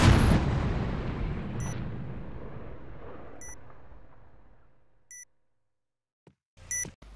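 In the shooter game Point Blank, a booming blast fades away, then a planted bomb gives sharp electronic beeps at regular intervals of roughly two seconds, with a brief clatter at the end.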